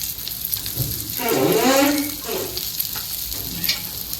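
Oil poured over fish frying in a pan sets off a loud bubbling sizzle that swells for about a second, then settles back to a steady crackle, close up.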